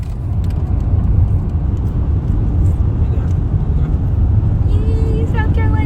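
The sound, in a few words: car driving, heard from inside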